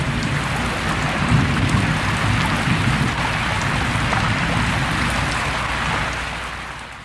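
Heavy rain pours steadily onto surfaces while low thunder rumbles beneath it. The downpour is loud and continuous and eases slightly near the end, with no voices.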